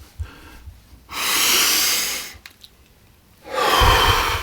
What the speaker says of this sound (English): take, say, 9 really deep breaths